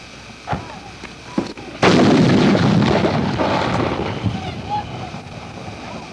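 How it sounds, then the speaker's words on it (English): Gunfire rolls in from far off across Beirut, a few muffled thuds followed by a sustained rumbling wash of distant shooting, with wind buffeting the microphone. "What are they shooting at?"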